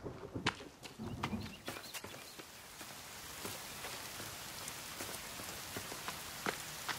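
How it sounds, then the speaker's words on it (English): Steady rain in the video game The Forest patters across a surface, a soft continuous hiss with scattered sharper drips, fairly faint and with no voices. "And it's starting to rain."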